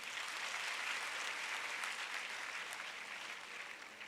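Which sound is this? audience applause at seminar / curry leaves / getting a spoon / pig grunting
audience applause at seminar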